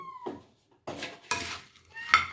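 A spoon stirs and scrapes through a mango pickle mixture in a bowl, giving a few short clinking, scraping bursts separated by brief pauses, close and fairly soft, with no talking.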